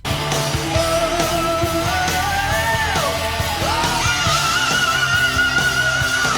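A high sung metal scream, a loud sustained wail holding a piercing pitch, sliding and bending between notes over a dense band backing for several seconds.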